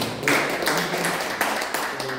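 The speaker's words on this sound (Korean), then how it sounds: "큰 박수 부탁드립니다." Applause rises from an audience at a Korean science and technology forum, a dense patter of clapping with sharper individual taps scattered through, steady and fairly loud for a couple of seconds.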